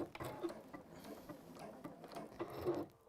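Sewing machine stitching fabric for a re-sew, a quiet close mechanical whirring and ticking in short uneven runs, faint throughout.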